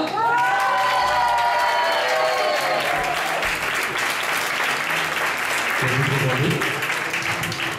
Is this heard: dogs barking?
no